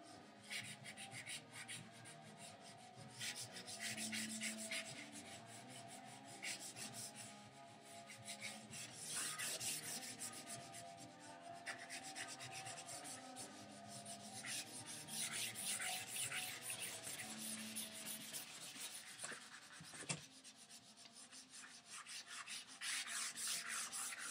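Charcoal stick held on its side and rubbed across drawing paper to lay a dark field, a steady close scratchy rasp with continuous rhythmic strokes, no talking.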